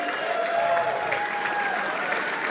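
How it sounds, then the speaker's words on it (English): Crowd applause at a live wrestling event, dense steady clapping and cheering from a large audience with a few whistles, holding at an even level throughout. "give yourselves a big round of applause"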